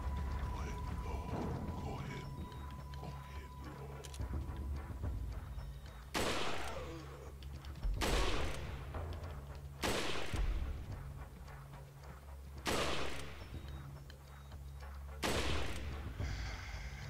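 Gunfire in the game Resident Evil 4 rings out as five sharp, loud shots spaced roughly two seconds apart, each with a short echoing tail, over a low steady background hum.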